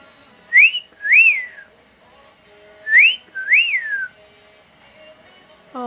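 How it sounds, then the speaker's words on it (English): Pet parrots whistle two pairs of clear, loud, close rising and swooping notes, a short gap between the pairs, with no talking. "They were saying peekaboo, and they were whistling."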